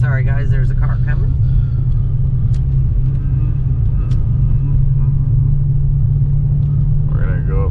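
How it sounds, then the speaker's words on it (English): A car travels along a road at night, its deep rumbling engine filling the whole stretch at steady volume, with brief bits of voices at the start and end. "Sorry guys, there's a car coming."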